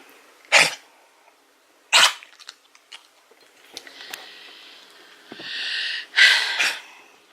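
A dog gnaws and crunches on a bone indoors, giving loud sharp snaps at intervals followed by softer gnawing, licking and snuffling sounds close by.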